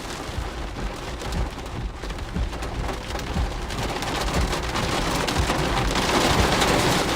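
Heavy rain from a tornado-producing thunderstorm drums steadily on a vehicle, a dense patter that swells louder toward the end, with no voices.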